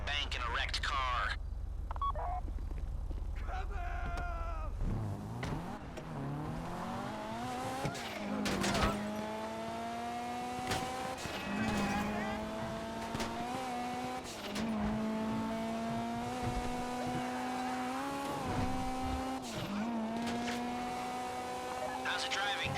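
A heist getaway car driven in GTA Online, its engine note rising and falling through gear changes, with sharp revving surges and some tyre noise, loud and continuous after a brief lead-in.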